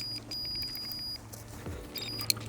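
A Trakker DB7 R fishing bite alarm gives a run of quick, high electronic beeps, pausing briefly and then starting again in short bursts over a low background rumble.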